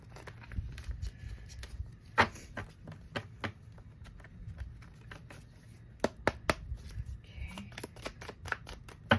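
A deck of tarot cards being shuffled and handled, quick papery riffles and sharp flicking snaps in irregular bursts, close and fairly quiet with no speech.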